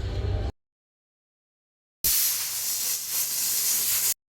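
Two loud bursts of hissing steam from a pressure cooker cooking dal, a short one and then a longer blast of about two seconds, separated by silence.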